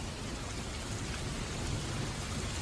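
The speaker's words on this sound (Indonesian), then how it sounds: "disertai dengan hujan badai yang sangat deras." A heavy rainstorm hisses as a dense, steady downpour, with constant broadband wash and no voices.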